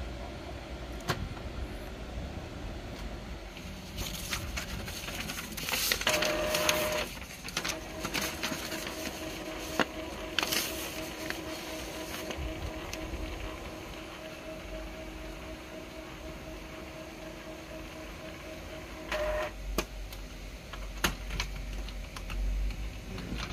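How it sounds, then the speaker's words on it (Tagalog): An Epson L1110 inkjet printer runs a head cleaning, giving steady mechanical whirring and ticking with a sustained motor whine through the middle and scattered clicks and knocks, heard close with no talk. "dito nag head clean ako ng printer para malinis yung ano niya, yung head ng printer ng ink"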